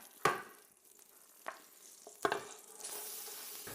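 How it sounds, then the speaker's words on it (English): Beef searing in clarified butter on an induction stove for beef bourguignon, a faint low sizzle broken by a few sharp clanks of utensils, the sizzle swelling louder near the end. "it's better to sear it at a higher heat"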